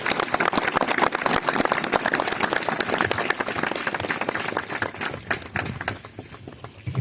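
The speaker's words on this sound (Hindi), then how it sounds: "Why can't you give a clap to the Lord Jesus Christ?" A congregation at a church meeting claps loudly for Jesus Christ, a dense, rapid crowd of hands ringing out close by that gradually thins and softens toward the end.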